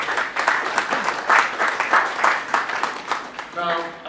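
Scattered rhythmic clapping comes from people at a government ministry media briefing, in bursts of uneven intensity over about four seconds. A voice speaks over the clapping toward the end.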